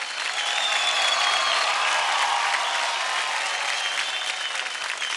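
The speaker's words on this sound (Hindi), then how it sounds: "और एक बार फिर से तालियां हो जाए वैभव के लिए." A studio audience on the Dance India Dance television dance show bursts into thick, steady applause, loud and unbroken throughout.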